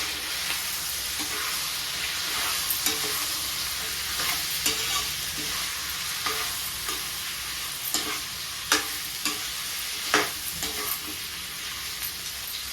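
Chicken and salt are stirred in a hot pan. A soft, continuous frying hiss sits under irregular scrapes and clicks from a spoon working through the pieces, and the knocks grow sharper toward the end. No voices are present.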